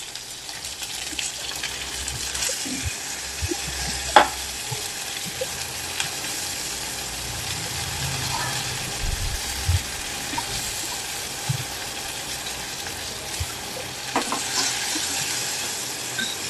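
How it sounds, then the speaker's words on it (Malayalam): Ground masala paste sautés over a low flame in a pan where mustard seeds have already popped, for a rasam: a soft, steady sizzle with sporadic sharp knocks and scrapes of stirring. "കടുക് പൊട്ടി കഴിയുമ്പോൾ നമ്മൾ അരച്ചു വെച്ച മസാലക്കൂട്ട് അതിലേക്ക് ചേർക്കാണ്. എന്നിട്ട് നന്നായിട്ട് വഴറ്റിയെടുക്കണം."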